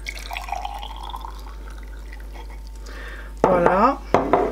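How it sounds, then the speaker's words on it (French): Water poured into a container while making a DIY self-tanner, a short burst of splashing liquid near the end after quiet handling and faint tones, close and clear. "Donc je vais commencer par ajouter l'eau."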